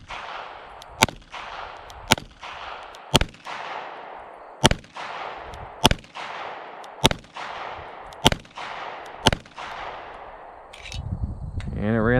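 An EAA Girsan 1911 pistol fires through a full magazine with its factory recoil spring, ten sharp, loud shots spaced about a second apart in a steady rhythm, each followed by a short ringing echo.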